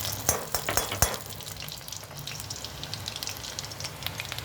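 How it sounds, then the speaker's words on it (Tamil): Chopped garlic sizzles in a pan as the first step of a pasta sauce. A soft, steady frying hiss runs throughout, with a few sharp clinks of a utensil against the pan near the start. "பூண்டு நல்லா கொஞ்சம் ஃப்ரை ஆகட்டும்"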